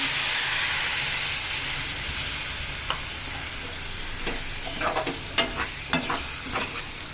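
Oil hisses and sizzles loudly in a pan of frying dried anchovies, then a few scrapes and bubbling pops break through as water hits the hot fish.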